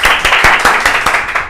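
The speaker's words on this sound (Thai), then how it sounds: "เสียงปรบมือกึกก้องมันคืออะไร" Brisk hand clapping at a Thai football-trivia game show: about eight sharp, close claps in a quick, steady rhythm, loud and alone.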